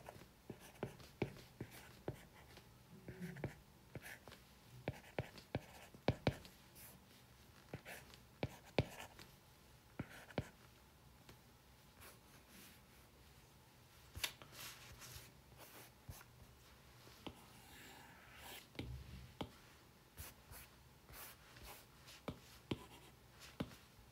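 Chalk or pen writing on a board during a complex analysis lecture, irregular scratchy strokes and taps spread over the stretch, quiet and close, with no talk.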